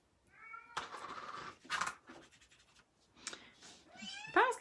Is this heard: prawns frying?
no